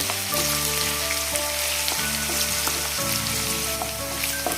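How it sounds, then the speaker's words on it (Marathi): Browned onions frying in a pan with green chili and coriander paste for a cluster bean and potato curry, a loud, dense, continuous sizzle and crackle with a few scraping stirs and a low steady hum beneath. "कांदा ब्राऊन झाला की आपण यामध्ये जे आपण वाटण करून घेतलं हिरव्या मिरची कोथिंबीरचं यामध्ये घालूया"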